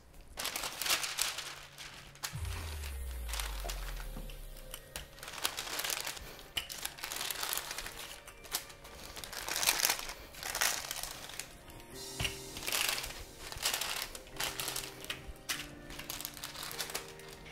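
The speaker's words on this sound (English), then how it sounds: "take another piece of parchment paper and lay it on top of the dough. Then grab your rolling pin and roll it out" Parchment paper crinkles and crunches as a rolling pin presses paleo shortbread cookie dough flat between two sheets, a busy, continuous rustling texture heard close up with no talking.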